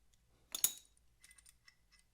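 A metal brake caliper bolt being pulled free during a brake pad change gives one sharp metallic clink, then a scatter of faint, light taps and jingles, close and quiet.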